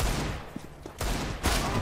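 Gunfire in CS:GO: a couple of sharp, loud rifle bursts crack out close by, separated by brief quieter gaps, with no talking over them.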